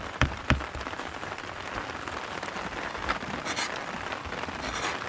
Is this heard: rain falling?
yes